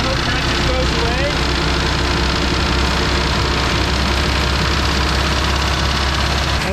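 A Junky Raven 195 boat engine runs steadily with a slightly knocky note, a constant loud drone filling the whole stretch without letup.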